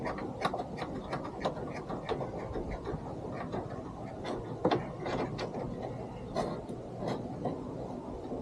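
A Torx driver turns nuts while fitting a third brake light on a Jeep Gladiator, giving a rapid run of small metallic clicks and ratcheting taps, close and fairly quiet, with a few louder knocks.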